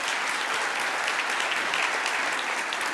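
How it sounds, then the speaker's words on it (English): Dense, steady applause from a banquet audience at a high school sports award dinner, honoring an athlete, continuous and fairly loud throughout with no talk. "I think that deserves a round of applause all by itself"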